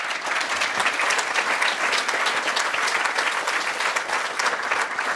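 Audience applause for a student award winner at a university leadership awards banquet, a dense, steady burst of many hands clapping that fills the hall evenly at constant loudness throughout, with no voices heard over it.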